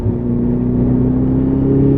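A car on the Silverstone circuit during a driving day, accelerating hard under full power: a loud, close, sustained engine drone with steady harmonic tones that rise gently in pitch over two seconds.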